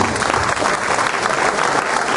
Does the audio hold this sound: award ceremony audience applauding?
yes